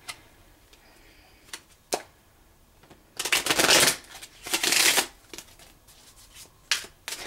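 Tarot cards being shuffled and pulled: a few light taps and flicks, then two loud, riffling bursts of shuffling up close, followed by scattered card snaps.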